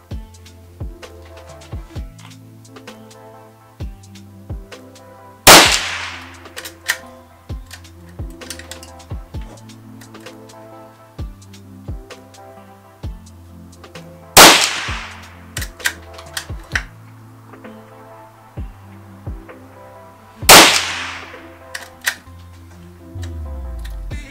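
Three sharp, loud .22 Long Rifle shots from CCI ammunition crack out at spaced intervals, each with a fast decay, over quieter ticking and clicking handling sounds throughout.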